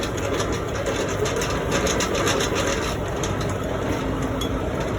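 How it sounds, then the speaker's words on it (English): Truck trailer landing gear being cranked up during a drop-and-hook pre-trip inspection, a loud continuous grinding, rumbling mechanical drone with a rapid ratcheting texture, heard up close. "Now I finish putting the landing gear all the way up."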